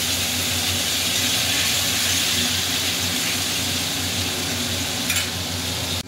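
Singi catfish, rubbed with salt and turmeric, frying in hot oil: a loud, steady sizzle and hiss close up, continuous throughout with no talking.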